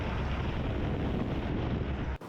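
Strong wind roars steadily into the microphone outdoors on an off-road drive in Idukki, a dense rushing buffeting sound that drops out briefly at the very end.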